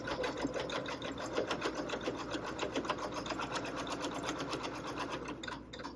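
A sewing machine stitches fabric in a fast, even rhythmic whir, close and steady, slowing and stopping at the end.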